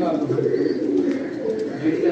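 Pigeon softly cooing in short low murmurs, close by, under someone talking steadily throughout.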